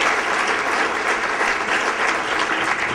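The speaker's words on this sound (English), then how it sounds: "I think we need to give Tim White a round of applause for really, truly coming up with that." A conference audience claps loudly and steadily, a dense wash of many hands applauding together without pause.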